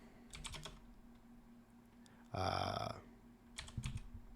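Keys clatter on a computer keyboard in quick bursts of typing, with short pauses between clusters and one louder flurry in the middle, fairly quiet and close.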